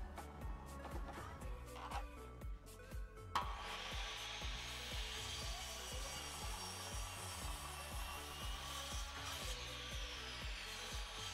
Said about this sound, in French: j'installe la première lame de terrasse que je coupe à la moitié de la dernière lambourde